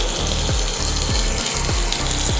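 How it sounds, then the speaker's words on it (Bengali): Potato and eggplant fry in a pan, a steady loud sizzle with rhythmic bubbling pops that keep recurring. "ভালো করে ভেজে নিতে হবে আলু এবং বেগুনটিকে।"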